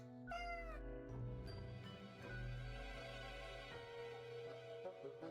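A cat in a video game meows several times over a loud, sustained music track with a heavy bass drone, its cries rising and falling through the mix.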